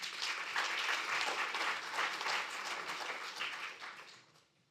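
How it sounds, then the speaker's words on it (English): Audience applause at an Indo-French legal and business conference, a full round of clapping from a sizeable crowd that stays strong for several seconds, then fades out. "Can we please have a round of applause?"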